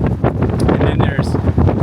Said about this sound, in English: But this place is always, man, it's windy.